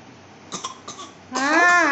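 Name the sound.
child coughing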